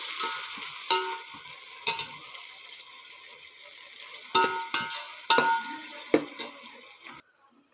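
Tomatoes frying in a pan for fish curry, a soft steady sizzle broken by several sharp clinks and scrapes of stirring, clustered toward the end, with no talk.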